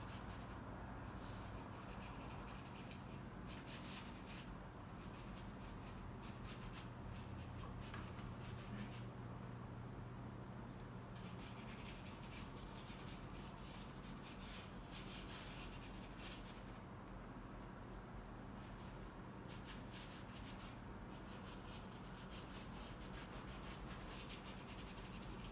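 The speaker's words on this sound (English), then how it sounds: "Randomly apply some pure type phthalo blue" Paintbrush spreading pure phthalo blue acrylic onto canvas for a beach seascape with waves, a steady soft rubbing and scrubbing of bristles that continues quietly and evenly throughout with no talking.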